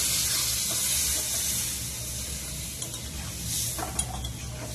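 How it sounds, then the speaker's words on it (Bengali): Potato curry with peas boiling in a pan after water is added, a faint, steady bubbling hiss with occasional soft pops and no voices. "তরকারিটা ফুটে গেছে"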